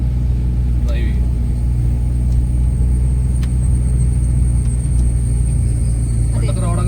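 Slow, steady engine rumble of a car creeping along a forest road near Konni, a continuous low drone heard close up with a few faint clicks and a brief voice-like sound near the end.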